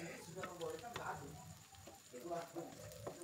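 Sambal sautés with shrimp paste, salt and MSG in a pan, giving a steady soft sizzle with scraping stirs, while a voice talks over the cooking.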